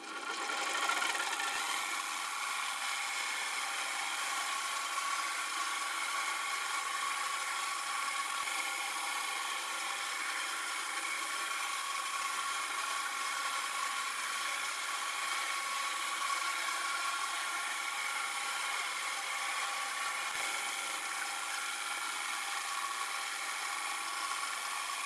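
Arduino-controlled home CNC mill cutting a 12mm hole, a faint, steady high-pitched machining whine with an even grinding rub that holds constant, with a few soft clicks and no voices.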